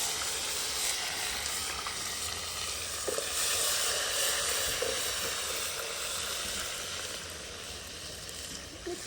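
Chopped tomatoes frying in a pan of hot oil, a steady close sizzle with some stirring scrapes, no talking.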